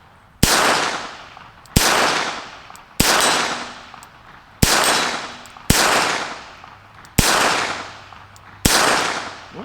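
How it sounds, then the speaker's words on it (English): Rossi Plinker .22LR snubnose revolver fired outdoors at a target, seven sharp, evenly spaced shots about a second and a half apart, each with a short decaying ring. "let's shoot a little bit more here"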